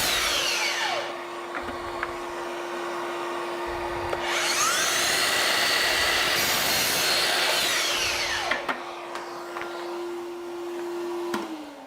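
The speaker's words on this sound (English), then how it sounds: "I'm just gonna cut some chunks of this dowel off" A handsaw cuts chunks off a wooden dowel in a workshop, its rasping back-and-forth strokes grinding on continuously, with a steady hum running underneath.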